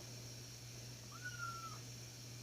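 A single soft cat meow, drawn out and quiet, over a steady low hum.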